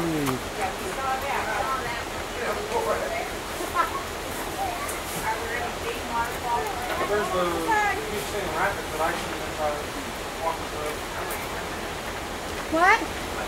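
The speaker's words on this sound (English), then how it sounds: "There's a waterfall." A waterfall near a nature center gives a steady broadband rush under the whole stretch, while children and adults chatter and call out over it.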